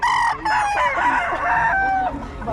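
Chickens and roosters at a poultry seller's stall crow loudly and close, overlapping drawn-out cock-a-doodle calls layered with clucking from several birds.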